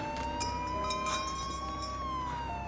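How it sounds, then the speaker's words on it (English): A police siren wails in a city street scene, a rising and falling tone heard at moderate distance over faint background clatter and traffic. "luckily being avoided by the sound of a police siren"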